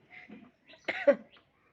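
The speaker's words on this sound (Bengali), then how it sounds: "কাশি হচ্ছে" A single person with a fever and cold coughs a few times in quick, hoarse bursts, close by in a quiet room, with a brief throat-clearing sound.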